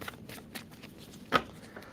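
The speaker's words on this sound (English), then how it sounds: "All right, let's do it. 2 shuffles, Gemini." A tarot card deck is shuffled by hand in a few quick riffling bursts, with one sharper, louder riffle near the end, close and quiet, no talking.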